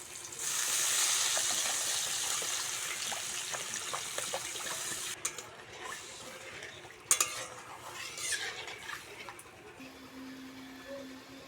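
Turmeric, chili powder, salt and then water go into a frying Bengali vegetable curry with pointed gourd. A steady close sizzle gives way to quieter bubbling, broken by a few sharp spoon clinks against the pan.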